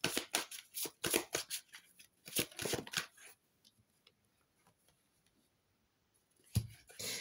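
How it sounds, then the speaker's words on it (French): Oracle cards of the angels of love being shuffled, close rapid riffling and flicking for about three seconds, then quiet handling and a final short shuffle. "on va prendre aussi une carte, une ou deux cartes, on va voir."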